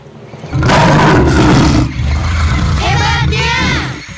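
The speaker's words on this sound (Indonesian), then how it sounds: "Itulah singa." A lion roars in a cartoon wildlife scene, a loud sustained roar with a crowd-like rumble that swells, dips, then continues as voices talk over the latter part.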